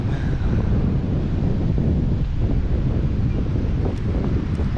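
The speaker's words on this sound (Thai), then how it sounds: "ลมเย็น" Cool wind blows steadily beside the Mekong River at Mukdahan, a constant broadband rush of gusts buffeting the microphone with no break and no voices over it.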